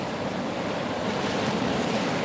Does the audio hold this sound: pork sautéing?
no